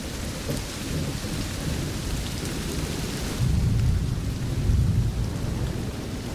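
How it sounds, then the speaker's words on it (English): Steady rain and rumbling thunder from an animated storm scene, a continuous wash of rainfall with deep low rolls of thunder swelling louder in the second half. "Come on, it's just a little rain."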